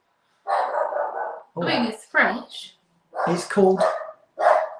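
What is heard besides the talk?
dogs barking in the background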